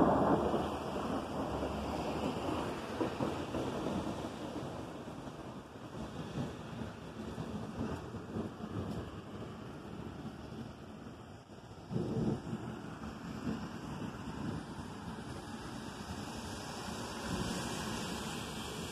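Thunder rolls through a severe thunderstorm, a sustained rumble over steady rain and wind noise, with a louder swell near the middle and no voices.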